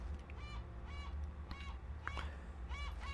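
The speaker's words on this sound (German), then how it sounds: "Jetzt lacht mich noch so ein Vogel aus" A bird in the video game Uncharted lets out several harsh, honking caws in short repeated bursts over a steady low background rumble of game ambience.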